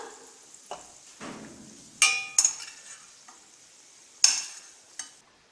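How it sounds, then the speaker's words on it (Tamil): Cashew nuts frying in ghee until golden, heard as soft sizzling with a few sharp clinks and scrapes of a stirring spoon against the pan, sparse and close, no talk. "முந்திரி பருப்பை இதில் சேர்த்து நல்லா பொன்னிறமாக பொரிச்சு எடுத்துக்கலாம்"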